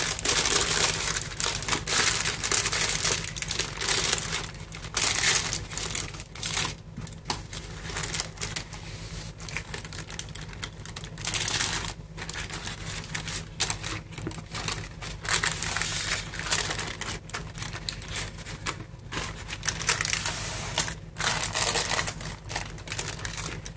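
Baking paper crinkles and crackles steadily as it is peeled back from a hot rolled omelette, a dense, continuous rustle up close.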